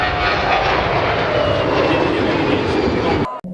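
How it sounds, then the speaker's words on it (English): An Airbus A319 and a Fokker 100 roar past in an air show flyby, their jet noise loud and continuous before cutting off abruptly at the end. "Both jets performed impressive flybys and maneuvers during the event."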